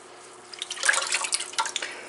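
Running water rinses a plaster-clogged loop roller used for ceiling texturing, splashing and trickling in a burst of uneven spatters that swells up after a quiet start.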